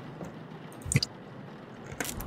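Formaldehyde poured in the horror game The Mortuary Assistant, a quiet wet squish and slosh with a brief splashy burst and a second fainter liquid sound, alone over low background.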